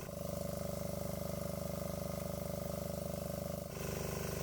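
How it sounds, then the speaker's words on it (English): The diesel engine of a diesel-electric golf cart runs revved up, making a steady, close, pulsing drone that holds even and then shifts slightly near the end, with no voices. "now we have the engine revved up a bit"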